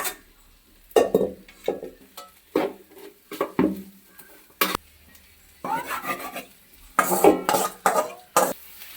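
A spoon stirring masala into fried chicken in a large pot, giving a series of loud scraping and rasping strokes in irregular bursts close by, with light clinks and faint sizzling between the strokes.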